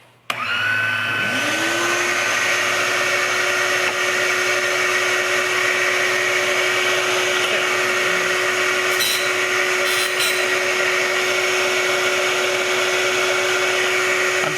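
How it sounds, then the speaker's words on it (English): A regular household vacuum hooked up as a dust-extraction attachment on a Proxxon power tool runs loud and steady, a continuous whine after a brief spin-up, pulling sawdust away from the blade with no talking. "I've set up a vacuum attachment here. This is my regular vacuum, just plugs in."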